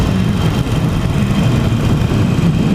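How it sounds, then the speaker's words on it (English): A Harley-Davidson Iron 883 motorcycle engine runs steadily with a deep, continuous low rumble, loud and close, with no talking over it. "I don't mind this engine."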